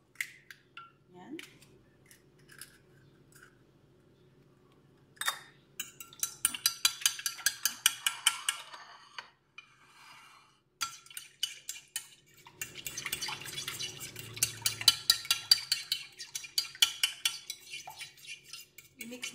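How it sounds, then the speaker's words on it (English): Milk and one egg stirred together in a bowl for fried bread, utensil clinking and scraping against the dish in quick rhythmic bursts, close by, with short pauses between rounds of mixing and faint talk early on. "Mix natin guys."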